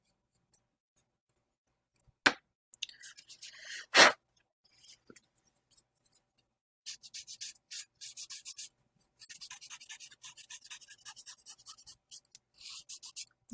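An eraser rubbing pencil shading off paper, heard as close, quiet, scratchy strokes in rapid bursts, with a couple of sharper taps early on and steadier rubbing through the second half.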